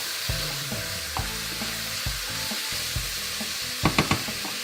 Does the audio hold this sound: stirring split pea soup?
yes